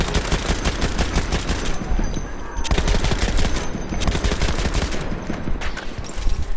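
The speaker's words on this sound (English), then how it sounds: "It has a pretty good fire rate for a fully auto rifle" Fully automatic rifle fire in the Battlefield 1 video game sounds as rapid sharp bursts of gunshots, loud and close, broken by short pauses between strings of rounds.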